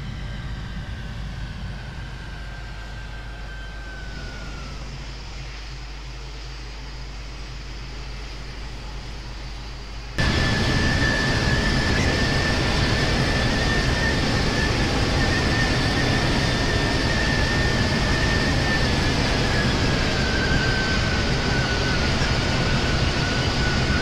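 Boeing 727 reverse thrust in a flight simulator game, a steady broadband engine roar that jumps sharply louder midway and holds a sustained high whine, with no talking.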